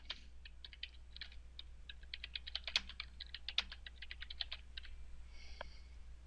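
A command being entered on a computer keyboard in a tape changer backup session, with rapid, light keystrokes in a continuous run over a low steady hum, heard faintly and without talk.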